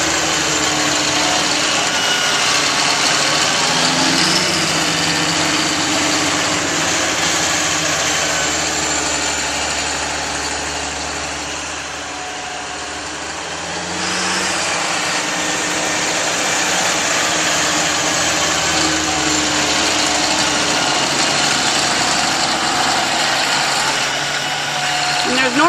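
A trail-grooming machine's engine runs steadily while packing down a snowmobile trail, a continuous close mechanical drone that dips briefly midway, with a person talking over it.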